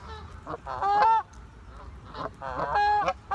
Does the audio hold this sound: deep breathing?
no